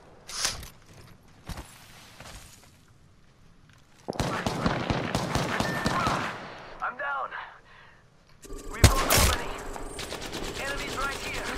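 Apex Legends gunfire comes in bursts, with sharp shots early, then a dense stretch of rapid weapon fire and mechanical clatter, and a loud close blast near the end, mixed with in-game voice callouts.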